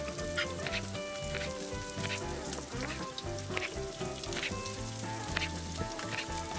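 Bacon sizzling in a cast iron skillet, a steady dense crackle and hiss with small spits and pops throughout, fairly quiet and close, with no talking.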